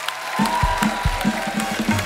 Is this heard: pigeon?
no